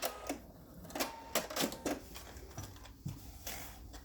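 A sewing machine stitches down a fabric quilt block, producing short mechanical thumps and clicks in uneven bursts. The sound is close but fairly quiet.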